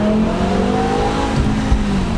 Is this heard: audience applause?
no